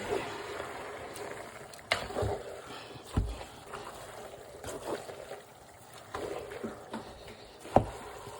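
The last batch of eru is mixed in a pot with plenty of oil: soft, wet stirring and sizzling with occasional sharp clanks of the utensil against the pot, quiet and close, with no talking.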